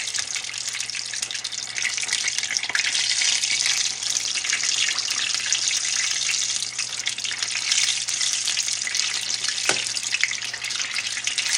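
Fried apple pie with a small hole leaking filling, cooking in hot oil, giving a steady close hiss of frying with occasional sharper pops; no voices.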